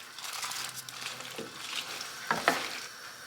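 Cabbage soup being stirred in a pot, a soft, continuous wet sizzle with crinkly stirring noise and a couple of louder scrapes near the end, close by with no talking.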